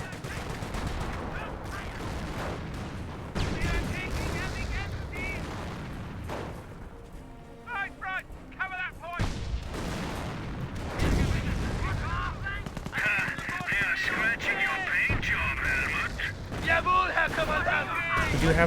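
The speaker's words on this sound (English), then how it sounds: "We do have some more mortar hits coming on down." Mortar shells land and rifle and machine-gun fire crackle across a battlefield in Company of Heroes, with repeated loud booming impacts and bursts of shots beneath a steady game soundtrack.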